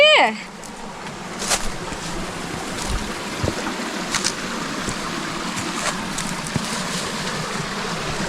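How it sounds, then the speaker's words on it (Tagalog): Water flows at Tungtong Falls in a steady, close, broadband rushing wash that holds evenly throughout, with a brief sharp chirp at the very start. "sarap pakinggan yung ano, tunog ng tubig"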